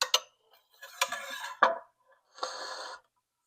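A croquette is dunked in beaten egg and pressed into panko breadcrumbs, giving a few light taps, soft scrapes and a crumbly rustle, close and quiet with no talking.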